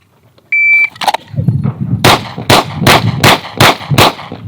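Pistol shots in a lateral Bill Drill on an outdoor range: a timer beep, then a single shot followed by a fast string of six sharp, evenly spaced cracks close to the listener.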